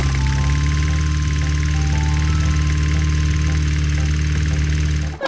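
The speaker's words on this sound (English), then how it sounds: "This is a green lawnmower." A green lawnmower at a children's museum runs with a steady low idling hum and buzzing mechanical drone, loud and close throughout before cutting off abruptly at the end.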